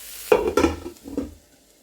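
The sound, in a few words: vegetables sautéing for Chinese spring roll filling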